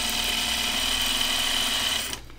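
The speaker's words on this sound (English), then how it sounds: "This serging feels so thick with the inner facing" A serger loaded with heavy Tex 40 thread runs steadily through a thick dress seam with inner facing, a loud continuous whirring hum that cuts off abruptly near the end.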